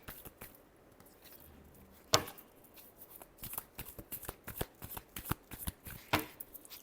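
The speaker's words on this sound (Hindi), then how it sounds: "और मैं कार्ड्स पुल करती हूँ।" Tarot cards being shuffled by hand at close range, a soft run of quick papery riffles and flicks with a few sharper snaps, quiet, with no voices.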